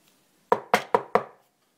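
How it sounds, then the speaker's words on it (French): Four firm knocks on a wooden door at a steady, even pace, close and clear against near silence. "Le loup courait tout droit à la maison de la grand-mère et frappait à sa porte."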